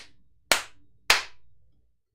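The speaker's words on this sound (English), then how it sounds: "We're going to clap." Two sharp, loud hand claps about half a second apart ring out close by in an otherwise quiet room, each with a short decaying tail.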